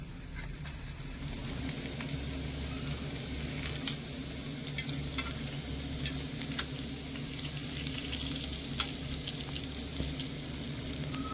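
Food frying in ghee in a pan gives a low, steady sizzle with soft scattered pops and occasional stirring clicks, fairly quiet throughout with no talking.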